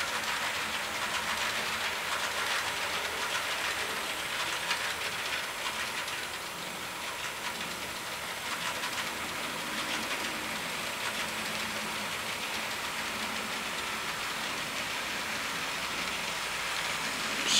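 Model railroad hopper train led by a rebuilt Conrail GP40-2 locomotive rolls past westbound, giving a steady hiss and rumble with faint rail clatter that holds evenly throughout, with no talking.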